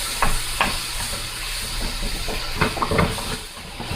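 Garlic and mushrooms sautéing in a pan give off a steady hiss with a few soft knocks and scrapes, close and continuous, and no one speaks.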